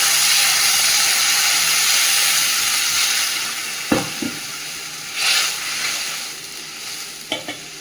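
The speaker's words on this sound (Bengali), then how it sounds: "মাছের ঝালের জন্য এখানে মশলাটা আগে ভেজে নিচ্ছি, কাঁচা লঙ্কা, টমেটো, আদা, রসুন, পেঁয়াজ সব ভেজে নিলাম।" Spices, green chilli, tomato, ginger, garlic and onion fried together in a pan for a fish curry, a loud continuous sizzle and hiss with a few scraping stirs and clinks near the end.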